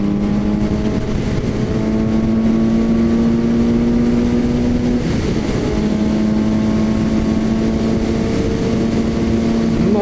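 A Suzuki GSX-S750A motorcycle engine held at high rpm, a loud, steady, buzzing drone with a slight pitch shift midway, heard up close with no talking.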